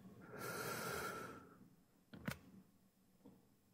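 A deep breath drawn in during a breathing exercise, a soft airy inhale lasting about a second, followed by quieter snort-like breaths and faint clicks, close and alone.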